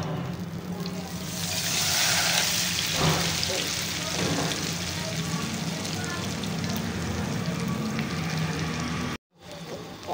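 Potato-stuffed naan frying in hot ghee over low gas, a steady close sizzle and hiss with a few soft stirring or turning sounds, continuous and fairly even throughout.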